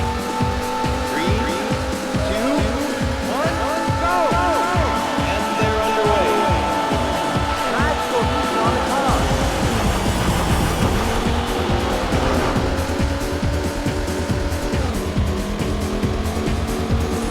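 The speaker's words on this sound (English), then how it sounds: "Gentlemen, start your engine." Race cars in the Daytona USA arcade game rev hard, with rhythmic engine pulses rising in pitch, then a long screeching tire squeal as the loud, continuous racing noise carries on.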